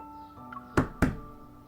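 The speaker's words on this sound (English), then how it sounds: "I knock on the table twice." Two firm knocks on a table, close and hollow-sounding, spaced about a quarter second apart over a faint steady background hum, with no talking.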